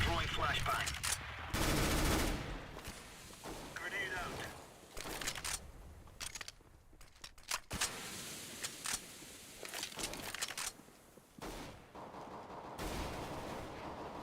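Bursts of P90 submachine gun fire in CS:GO competitive play come in rapid volleys separated by quieter gaps, with a player talking over parts of the action.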